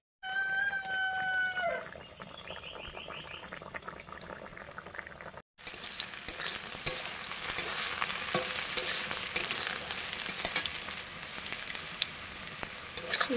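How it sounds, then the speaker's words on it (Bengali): Freshly caught fish curry gravy bubbling in a pan: a steady dense simmering crackle and bubble that runs on after a short stretch of background music. "ঝোল ফুটে গেছে।"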